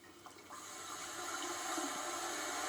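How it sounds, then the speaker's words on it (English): Red wine poured from a bottle into a pan of lightly floured, seared meat, a steady gurgling liquid pour that builds in volume and runs continuously without talk. "Good glug of red wine."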